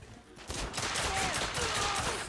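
Pistol shots in the video game The Order: 1886 crack out amid dense game battle noise, a few sharp reports layered over a steady loud backdrop with some talk mixed in.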